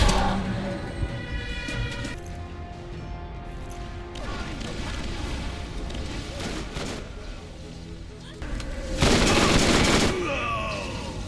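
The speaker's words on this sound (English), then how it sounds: "There was like a weird sound effect that happens right after the grenades" Video game grenade explosions and gunfire from Borderlands with a Dahl-themed mod, dense bursts of shots and blasts, then a loud, odd whooshing effect near the end, with no voice heard.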